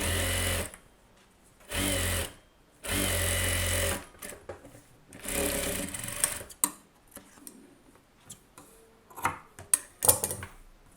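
Sewing machine stitching the folded hem of a close-neck blouse, running in several steady bursts separated by pauses, then giving way to light handling clicks and taps of the fabric and machine, close up with no talking.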